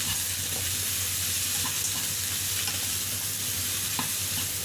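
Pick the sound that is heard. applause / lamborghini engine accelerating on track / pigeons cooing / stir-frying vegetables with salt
stir-frying vegetables with salt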